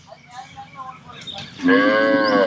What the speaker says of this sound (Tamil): இது எல்லாமே கண்ணுக்குட்டி எல்லாம் வந்து பந்தலுக்குள்ளே கட்டியிருக்காங்க